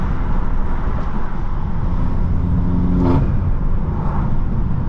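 A BMW M6 engine fitted with new intakes and downpipes drones in a loud, steady rumble from inside the moving car, with a brief swell near the middle and road noise underneath.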